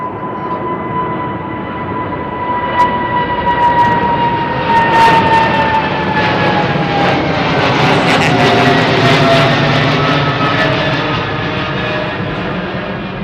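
Jet aircraft engines at Heathrow Airport in London winding down, a steady loud roar with tonal whines that slowly fall in pitch across the stretch, heard alone without talk.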